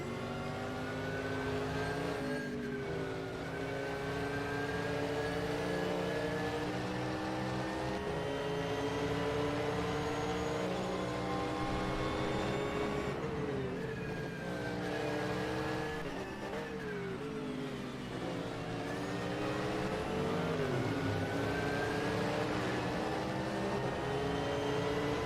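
GT3 race cars in a racing video game, Mercedes among them, lapping Suzuka through the S-curves: a steady, loud multi-engine drone with rising and falling revs and gear changes running unbroken throughout.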